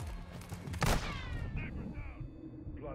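Gunfire in the Call of Duty Modern Warfare 2 campaign's Cartel Protection mission, a burst of close heavy shots with one loud blast near the start, then battle noise and whooshing effects under brief voices.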